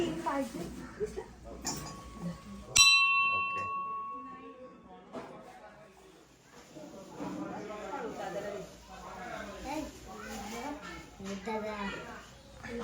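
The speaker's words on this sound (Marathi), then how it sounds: "घंटी वाजव पाहिले" A single bright metallic temple bell strike on Mahashivratri rings out and decays over a couple of seconds, with people talking before and after it.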